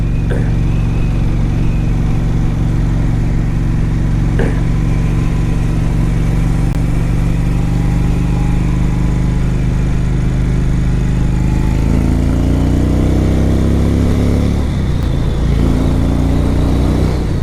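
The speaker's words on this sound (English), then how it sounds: "The gearbox feels great. I mean, shifting through these gears, I love it." Indian Chief Vintage motorcycle on a test ride, its engine droning loud and steady throughout, with the pitch stepping up as gears shift in the later part.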